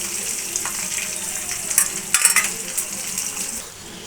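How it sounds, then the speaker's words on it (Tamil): Sliced large onions with green chilli and curry leaves sizzle steadily in a pan for a roadside-style salna, giving a continuous bright crackle with a few louder stirring spikes, close and alone. "நல்லா வெங்காயம் வதங்கிட்டுருக்கு"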